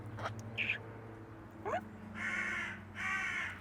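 Crows cawing outdoors, several harsh calls at moderate distance, the last two long and loud, with a faint voice briefly underneath.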